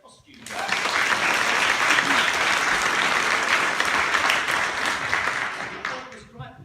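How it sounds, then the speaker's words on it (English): An audience at an amateur drama adjudication in Caerwys gives a round of applause for a cast's costumes: a steady, full burst of clapping lasting several seconds, fading out at the close. "Can we have a round of applause for their costumes?"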